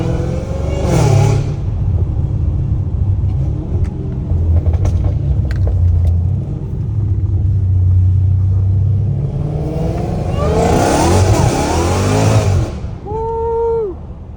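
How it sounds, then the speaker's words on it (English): A Dodge Hellcat Redeye with a fully catless exhaust roars up close, a deep constant rumble swelling into loud revving bursts at the start and again later, the engine note dropping back to a low idle at the end. "Oh yeah, those tires are burning."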